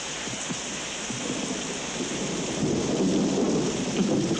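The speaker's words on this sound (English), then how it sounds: "I hate the rain." Steady rain falls with rolling thunder that swells louder toward the end, a continuous storm wash with no voices.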